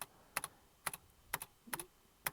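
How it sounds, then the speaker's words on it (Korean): Keyboard keys clack in quick pairs, about five double-presses spaced evenly, close and crisp against a quiet background. "이렇게 한 번 눌렀는데 이 키보드 소리 들리시죠?"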